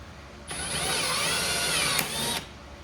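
Drill-driven tightening tool working on a C7 Corvette Z06, a close high whirring spin-up lasting about two seconds with a brief click near the end, then stopping.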